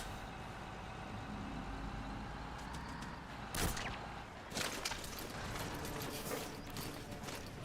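A truck in Metal Gear Solid V: The Phantom Pain rumbles with a low engine hum, while mechanical clanks and sharp knocks of metal break in partway through at moderate distance.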